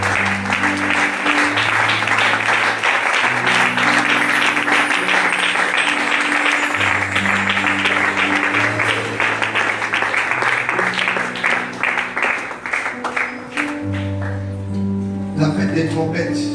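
A church congregation bursts into loud, sustained applause and cheering, close and dense throughout, with organ or keyboard chords sounding beneath and voices rising over the clapping.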